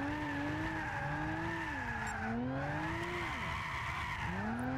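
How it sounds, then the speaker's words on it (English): In Gran Turismo 6, a Lexus GS300 drifts with the handbrake, its tires squealing in long, wavering sustained tones over steady engine drone, with no talk. "Initiating drifts with the handbrake."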